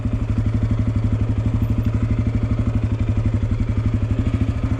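Dirt bike engine chugging at low speed under clutch control, a loud, close, steady thumping single-cylinder pulse with rapid even rhythm and no talking.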